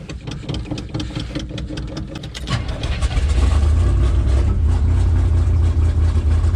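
A big block 454 Chevy V8 cranks unevenly and catches after sitting for 27 years, then settles into a loud, steady, rumbling idle close by.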